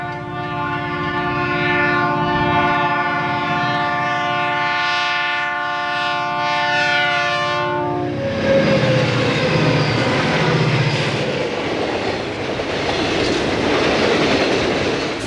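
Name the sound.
train passing with horn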